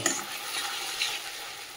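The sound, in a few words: stirring ginger garlic paste frying in oil with onions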